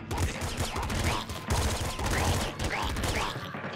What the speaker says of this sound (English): that's a lot of bullets coming. Coming straight at your face when I pop up